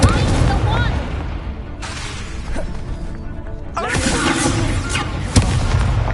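An Incendio fire spell cast in Hogwarts Legacy lands with booming, crackling bursts and crashes over game music, loud and dense, with a sharp impact near the end.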